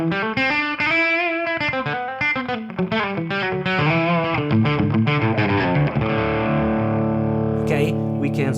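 Electric guitar through a Harley Benton DNAfx GiT Pro multi-effects unit on one of its presets, playing a bright, lightly distorted riff of picked notes and chords, loud and up close, ending on a sustained chord.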